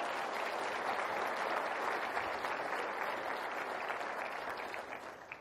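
A banquet crowd at a Spirit of America dinner gives sustained applause for the Chamber, a dense, even roar of many hands, fairly distant, fading slightly toward the end.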